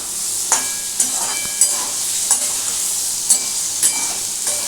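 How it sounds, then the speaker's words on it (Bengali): A spoon scrapes and stirs chandramukhi potatoes and paneer with sugar in a pan, a sharp scrape roughly every half second over a soft, continuous sizzle of frying. "এবার এটাকে দেখো ভালো করে নাড়াচাড়া করব।"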